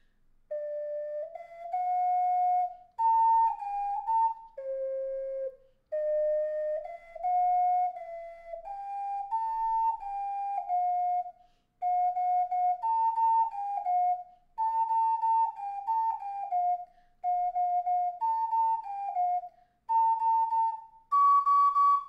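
An ocarina plays the Gravity Falls theme as a solo melody of clear, breathy, whistle-like notes in short phrases, close and steady, with no talking.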